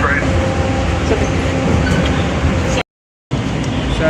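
A Toronto subway train rolls along as a loud, steady rumble heard from inside the car, cut by a brief gap of silence near the end.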